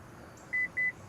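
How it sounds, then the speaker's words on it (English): Two short, clear electronic beeps in quick succession from the power rear liftgate of a 2026 Honda Odyssey EX-L as its height is set, over a quiet background hum. "you hold this button down until you hear the beeps"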